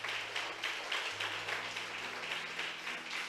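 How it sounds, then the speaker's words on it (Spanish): Church congregation applauding after a sermon, a steady dense wash of many hands clapping at a moderate distance, continuous throughout with no voices over it. "Alguien le da un aplauso a Dios por este mensaje"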